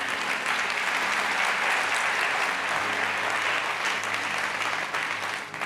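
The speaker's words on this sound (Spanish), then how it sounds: "Dele un aplauso a Jesús por eso." Church congregation applauding during a Spanish-language sermon, a thick, sustained wash of many hands clapping at close range, holding steady and easing slightly at the end, with no talk over it.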